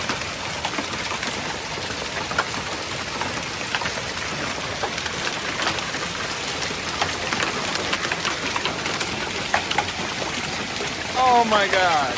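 Quarter-sized hail batters a truck and windows in a July Minnesota storm, a steady heavy drumming of impacts throughout, with a brief whistle-like sound near the end.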